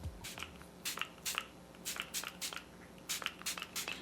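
Short hissing bursts of a Revolution makeup setting spray, about ten quick spritzes in uneven clusters, close and fairly soft, with no talking.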